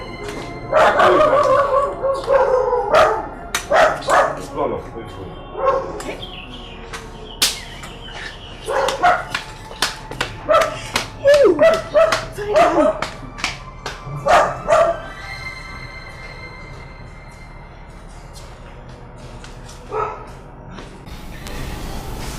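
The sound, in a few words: dog barking in the palace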